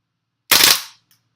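A WE Apache MP5 gas blowback airsoft gun fires a short burst of rapid, sharp cracks that blur into one loud, close report and then fade quickly.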